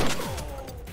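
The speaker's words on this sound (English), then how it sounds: "A pump action shotgun?" Pump-action shotgun fired in a video game on an ocean liner level, a single sharp blast with a booming low thud that quickly decays.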